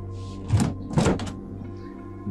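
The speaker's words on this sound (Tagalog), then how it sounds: "Biglang sumara ang malakas na pinto sa kusina." A heavy kitchen door slams shut with two solid thuds in quick succession, the second louder, over a low steady hum, fairly close with no talking.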